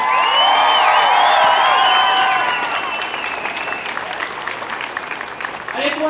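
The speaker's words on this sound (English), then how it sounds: "everyone just give themselves a big round of applause for coming out to support this event" Crowd applause with scattered cheers and whistles at an outdoor UNBSJ student rally in King Square, loud and sustained at first, then thinning to looser clapping.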